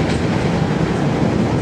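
A passenger train runs between Leeds and Shipley, its rumble and clickety-clack of wheels on rail heard from onboard as a close, steady roar.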